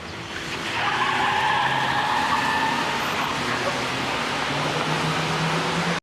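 A car skids hard at speed in a TV drama scene, a long continuous tire squeal holding steady for several seconds over engine roar, loud and close.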